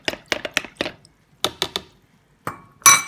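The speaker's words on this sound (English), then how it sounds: "Okay, so you just stir." Glycerin and water being stirred in a container for homemade hand sanitizer, heard as a series of sharp clinks and knocks in irregular bursts, close and fairly loud, with brief pauses and no talking.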